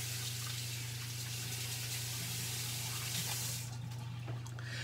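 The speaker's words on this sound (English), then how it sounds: "Let me wash my hands." Tap water runs steadily at close range for hand washing in a home kitchen, a continuous even hiss over a low constant hum, with no talking.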